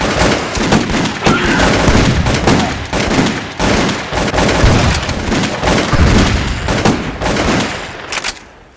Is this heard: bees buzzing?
no